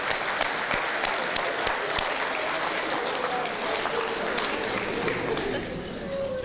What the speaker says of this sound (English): Give Dan a round of applause